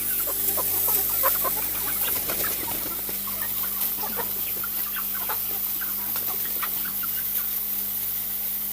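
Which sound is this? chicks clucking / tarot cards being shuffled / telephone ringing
chicks clucking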